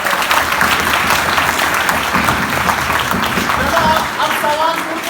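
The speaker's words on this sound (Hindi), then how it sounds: "ताली बजाओ।" Audience at a Hindi comedy show at Poornima College breaks into loud, sustained applause, a dense wash of clapping that holds for about five seconds with a few voices rising faintly near the end.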